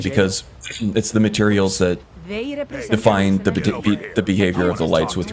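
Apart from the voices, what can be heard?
No everyday noise stands out behind the speech.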